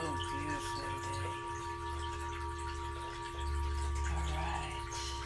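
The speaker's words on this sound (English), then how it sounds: "you hear the sounds of the waterfall in the background" A waterfall rushes steadily in the background of an outdoor sound healing session, a soft, continuous wash beneath sustained, ringing singing bowl tones.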